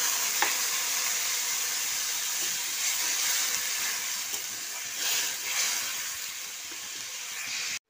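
Water poured into hot oil with cooked-down spices hisses and sizzles in a steady, close wash, with a few brief louder bursts and faint stirring scrapes along the way.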